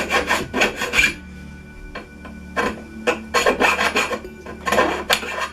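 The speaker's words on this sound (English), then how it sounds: "use a file and just file off the burrs on the outside and on the inside" A hand file rasps burrs off cut metal tubing on the outside and inside edges. Bursts of short scraping strokes come in quick clusters with brief pauses between them, close and fairly loud, with no talking.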